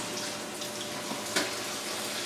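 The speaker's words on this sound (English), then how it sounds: "especially with canned beans, it's always a good idea to rinse them off because they tend to package them with salt." Canned beans are rinsed under a steady stream of running tap water, a continuous close splashing hiss with a brief louder splash partway through. No one talks.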